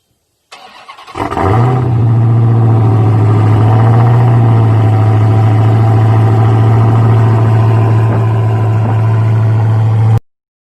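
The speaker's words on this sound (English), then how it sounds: "Nothing like a cold start to start the morning." A Dodge Charger/Challenger V8 fires up from cold with a brief crank. It settles into a loud, steady, deep idle that drones unbroken for about nine seconds before cutting off abruptly.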